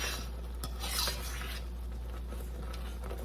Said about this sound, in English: we're stirring and getting that all stirred up into a sauce kind of